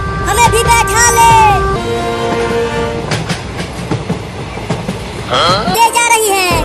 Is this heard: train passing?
yes